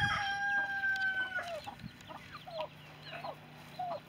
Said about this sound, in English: Here we have our banty coop.